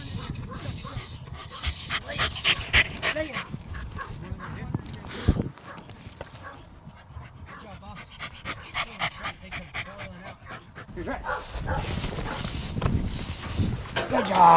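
Dogs hunting rats pant hard and quick close by, amid scuffling, rustling and bumps, while people call out excitedly over the commotion.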